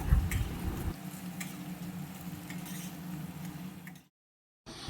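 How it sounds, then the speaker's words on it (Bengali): Spices for chana dal sizzle steadily in a pan, with some stirring scrapes at the start, then a short drop to silence before the sizzle resumes. "এরপরে ভালো করে কষিয়ে নিলাম"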